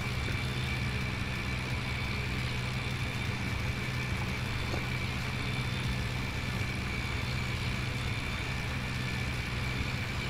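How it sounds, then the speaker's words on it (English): An 85 horsepower tractor engine working a field in Farming Simulator, a steady low drone running at an even load throughout, close and constant with no changes in pitch or pace. "We're talking about an 85 horsepower tractor."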